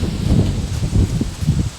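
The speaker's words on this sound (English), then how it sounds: "the wind is just howling today" Wind gusting and buffeting outdoors near a porch under repair at a country house, a loud, rough rumbling rush that swells and eases over a couple of seconds.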